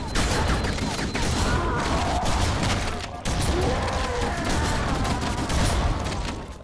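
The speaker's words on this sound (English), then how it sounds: "Too much shooting." Sustained, dense gunfire in the Halo video game, loud and nearly continuous for several seconds with one brief break, crackling volleys layered over one another.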